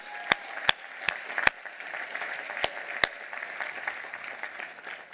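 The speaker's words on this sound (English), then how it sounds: "let's give Nishita a round of applause." An audience at a university commencement ceremony applauds, a steady wash of many hands clapping at a moderate distance, with a few sharp, louder claps standing out near the front.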